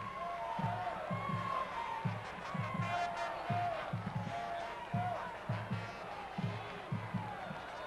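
Crowd noise from a 2002 high school football playoff game between Warren Harding and St. Ed's, a steady distant murmur with rhythmic bursts of stomping or clapping, faint under a commentator's voice.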